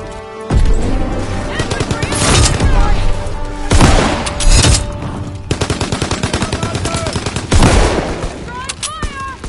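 Gunfire in the Call of Duty WW2 shooter game, rapid bursts of automatic fire with several loud booming shots and explosions, close and intense, with brief voices mixed in.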